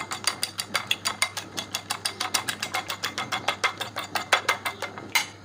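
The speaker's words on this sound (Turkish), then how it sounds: "Hemen onu güzelce çırpıyoruz" Two eggs are whisked briskly in a bowl for bread, a fast steady series of close clicking taps as the whisk strikes the sides, about five beats per second throughout.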